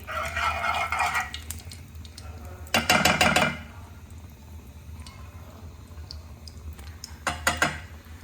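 Ghee added to a pan and stirred, with bursts of metal clinking and scraping against the pan over a steady background hum, two loud clattering spells apart from quieter stretches, and no talk.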